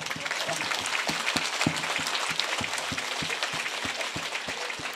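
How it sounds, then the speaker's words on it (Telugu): Audience applause during a Telugu spiritual discourse by Patriji: steady, dense clapping from a crowd fills the whole stretch, with sharper individual claps standing out at irregular intervals. "big claps"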